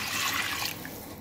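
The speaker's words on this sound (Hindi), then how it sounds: "अब मैं इसके अंदर 1 ग्लास जो है वो पानी शामिल करूंगी" A glass of water pours into a cooking onion-tomato masala for kofta curry with a brief splashing hiss that fades quickly.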